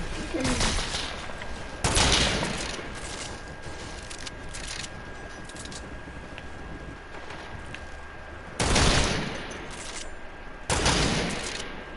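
Gunfire in a battle-royale video game with pickaxes, several loud bursts of shots spread across the stretch, with quieter in-game ambience between them and no talk.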